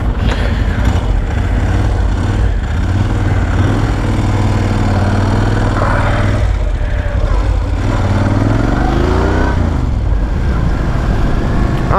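A Moto Guzzi V11 Coppa Italia with its transverse V-twin engine accelerates, giving a steady, loud, rough mechanical drone that rises and shifts in pitch as the revs climb, heard up close throughout.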